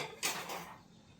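A chapati pan is set down and handled while it preheats, giving a single near metallic clunk followed by a brief scrape that fades into quiet.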